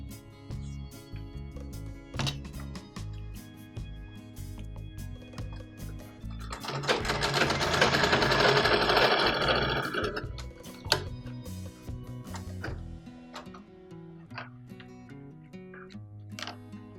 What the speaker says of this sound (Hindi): अभी हम लोग ये नंबर के ऊपर कौन सा सिलाई आता है ये देखेंगे।